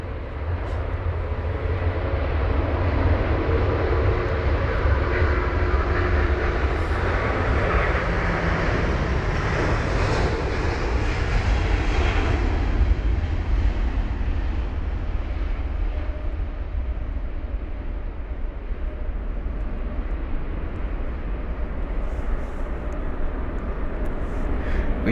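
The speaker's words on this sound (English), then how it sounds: "You can see there the tail of that aircraft really close to the runway upon departure" A jet aircraft departing from a runway at London Heathrow in wet, spray-filled conditions, a broad, loud engine roar that swells and then slowly fades into the distance, with no speech.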